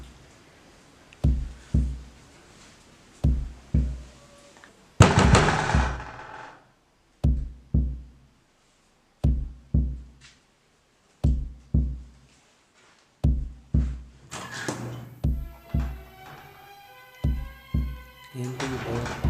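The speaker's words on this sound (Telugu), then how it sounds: "బయట ఎవరో డోర్ కొట్టినట్టుంది" Repeated heavy knocks on a door in a horror game scene, delivered in spaced groups of two or three loud, close thuds with silent gaps between, ending in a swell of tense music.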